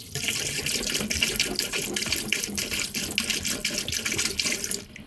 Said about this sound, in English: I pour it down here too